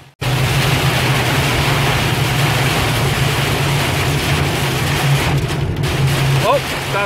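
Heavy rain pounds steadily on a Ford King Ranch pickup with a 6.0 Powerstroke diesel while it drives through a storm, a dense continuous roar over a low engine drone, easing slightly near the end.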